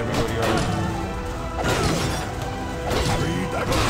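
Crashing smashes as a club strikes enemies in One Finger Death Punch, heavy impacts bursting out over a dense, busy game mix, with two strong hits standing out partway through.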